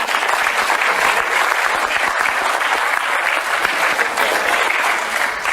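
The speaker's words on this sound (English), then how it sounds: "Let's give him a round of applause." A large audience claps continuously and loudly at a talk or seminar, a dense, steady wash of applause with no break for more than five seconds and no voices on top.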